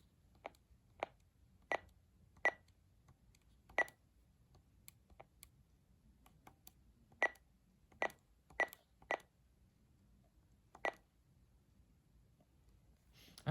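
A Reecom R-200 device gives sharp, short electronic beeps and clicks at irregular intervals, faint and close in a quiet room.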